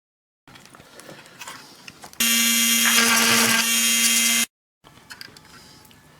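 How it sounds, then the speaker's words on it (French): A small power drill bores holes in a 1:35 scale model, giving one steady, high-pitched whir of about two seconds between quieter handling sounds. It is close and loud, with no voices. "il n'y a plus qu'à percer"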